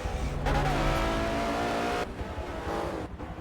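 A Ferrari GT race car engine in a racing video game, revving hard at close range with a rising whine, easing briefly, then climbing again through gear changes, loud and without talk.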